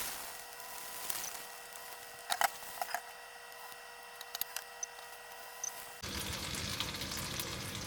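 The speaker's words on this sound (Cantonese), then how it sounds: "慢慢將啲雞翼煎香佢" Chicken wings pan-frying in a little oil in a wok over low heat, heard as a quiet, steady sizzling hiss broken by scattered sharp crackles and pops.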